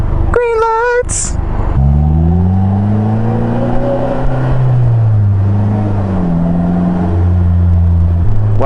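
Polaris Slingshot three-wheeler cruising on the road, its small engine droning steadily and loud with shifting pitch as it moves through the gears, wind noise underneath and a person talking.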